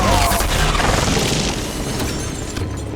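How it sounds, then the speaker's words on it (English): An experimental irradiated petricite cannon fires in a video game as enemies burst apart: a loud, continuous wash of booming blasts and shattering crashes that stays dense and forceful throughout, with no clear gaps between impacts. "they literally handed us this experimental irradiated petricite cannon that causes people to explode into a mist of pink fun"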